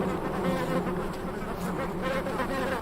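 Bees swarm among flowering prickly pears in the Sonoran Desert, a dense, steady buzzing hum that fills the air continuously at close range, with no voices.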